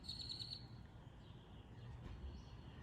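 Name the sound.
birds singing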